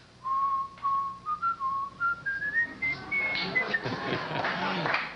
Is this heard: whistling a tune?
yes